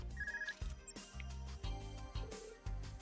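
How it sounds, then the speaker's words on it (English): An in-game phone rings in Trails of Cold Steel IV, a short tonal ringtone chiming a few times over a steady, busy game music bed. "Oh, phone call."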